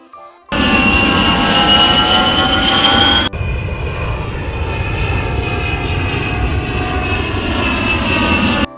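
A fixed-wing airplane's engine drones loud and steady and close, with a sustained whine and broadband roar throughout and a brief shift in tone partway through, no voices.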